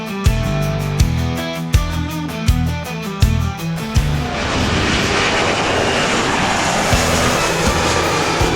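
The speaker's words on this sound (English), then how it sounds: "The crew will perform a maximum effort takeoff and climb, demonstrating its ability to operate out of short," C-17 Globemaster III making a maximum effort takeoff and climb at the Tinker Air Show, starting with rhythmic thumping pulses, then a broad, loud jet roar building and holding steadily.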